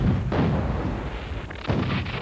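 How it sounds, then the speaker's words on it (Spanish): An 1847 Mexican-American War artillery barrage of Mexican cannon fire from Matamoros on Fort Texas booms and rumbles in a dense, continuous roll of heavy blasts, loud and unbroken throughout. "La artillería mexicana en Matamoros inició una barrera de fuego continua sobre el fuerte Texas. Los cañonazos se oían hasta Punta Isabel."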